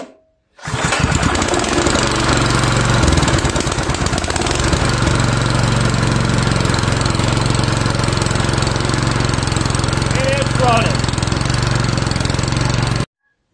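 A Troy-Bilt 179cc snowblower engine fires up after priming with the choke on and runs loud and close with a rough, rapid chugging roar, holding steady for about twelve seconds before stopping.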